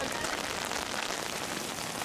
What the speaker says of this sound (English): the rain was really coming down